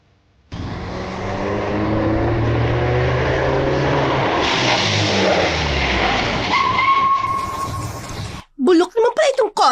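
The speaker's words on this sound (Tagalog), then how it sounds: "bulok naman pala itong kotse mo eh." A car engine revving while being driven, a steady loud drone with rising and falling pitch that holds for several seconds, then cuts off as a voice starts talking.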